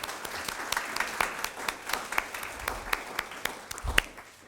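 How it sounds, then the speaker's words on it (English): Guests at an evening award reception clap for teaching faculty, a fairly close, uneven patter of individual claps with some louder hits and a few thumps, no speech over it. "I would like to give a round of applause to the teaching faculty who are with us tonight"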